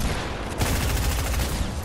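Dense, continuous gunfire from a Fortnite match, a sustained barrage of rapid overlapping shots that fills the whole stretch at steady loudness with no pause.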